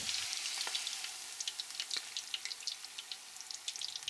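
Shrimp tempura deep frying in hot oil gives a steady high crackling sizzle, with dense popping bubbles and scattered sharper spits throughout, fairly quiet and close, with no voices.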